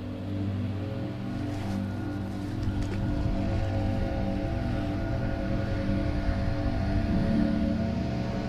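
Steady low mechanical drone from landscaping crew equipment running somewhat distant behind a shoreline fishing spot, constant and moderately quiet throughout with no talking.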